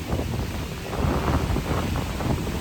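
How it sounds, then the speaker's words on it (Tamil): Strong cyclone wind in Chennai roars steadily with gusty buffeting against the microphone, a continuous loud rush with no voices. "இந்த காற்று பாருங்கள், பயங்கரமாக அந்த சவுண்டு உங்களுக்கு பயங்கரமாக கேட்குதா?"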